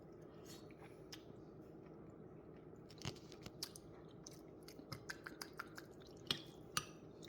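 Chili with peanut butter being eaten up close, with soft chewing and several crisp, sharp bites and crunches that grow more frequent toward the end over a steady low background hum.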